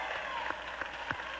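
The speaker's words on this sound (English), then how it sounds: "All the women in the audience are applauding." Game show studio audience of women applauding on Card Sharks, a steady wash of clapping with a few louder bursts standing out over the brief stretch.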